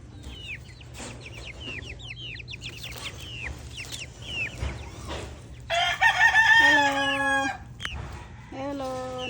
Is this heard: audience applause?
no